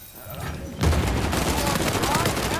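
Blind-fired guns in Uncharted 4 multiplayer, a game of ranked King of the Hill, rattling off in dense overlapping bursts that grow louder after a quieter start, with a voice talking over the gunfire.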